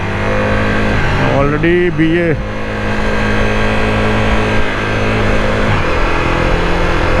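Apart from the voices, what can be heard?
cars accelerating and revving on the road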